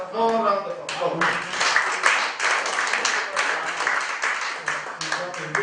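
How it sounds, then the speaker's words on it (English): A room full of people applauding, dense steady clapping that continues throughout, with a voice speaking briefly at the start. "I think we should give a more round of applause."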